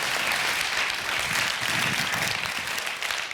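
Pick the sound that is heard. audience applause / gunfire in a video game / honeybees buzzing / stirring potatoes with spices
audience applause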